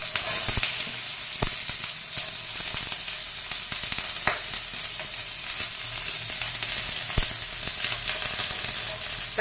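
Cumin seeds and onions fry in a pan, throwing off a dense, steady sizzle with crackling pops and occasional sharp ticks from stirring, loud and close.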